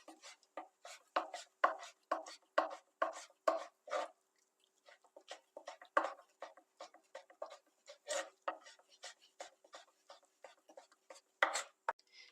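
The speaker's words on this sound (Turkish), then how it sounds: "Patlıcanımızı da ufak küpler halinde doğruyoruz" Eggplant being chopped into small cubes for a Turkish egg dish, a rapid series of close, crisp knife taps on a cutting board in uneven bursts with a brief pause partway through.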